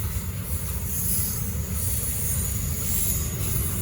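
A Norfolk Southern intermodal freight train rolls past on the Charlotte District with a heavy low rumble of wheels on rail and a faint high squeal of wheels, steady and close throughout with no talk.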